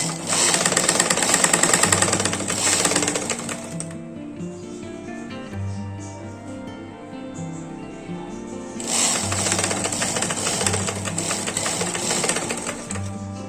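A sewing machine stitches lace onto a designer blouse, running in two steady, dense bursts of rapid stitching with a quieter pause between them, fairly close and loud, with no talking.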